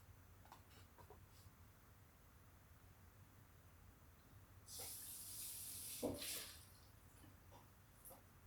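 Tap water runs into a sink while a food bowl is washed, starting partway through as a steady hiss of moderate, close flow that stops about a second and a half later amid faint background noise.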